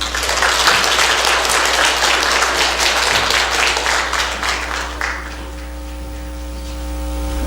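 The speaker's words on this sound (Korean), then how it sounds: "박수로 한번 환영해 주시겠습니다" A church congregation applauds loudly for about five seconds during a Korean Sunday afternoon worship service, welcoming a missionary, then the clapping stops, leaving a steady electrical hum.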